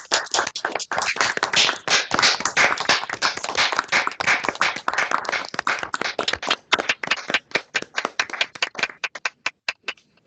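Hand clapping for 2021 Williams Honors College Awards of Distinction recipients, dense rapid claps from what sounds like a single nearby person, thinning toward the end into sparse separate claps.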